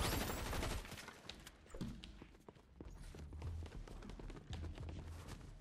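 Bursts of video game gunfire crack out in quick rapid volleys, sharp repeated shots mixed with scattered single reports, fairly faint and continuing through the stretch.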